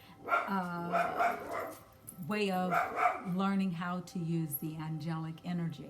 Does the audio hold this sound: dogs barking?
yes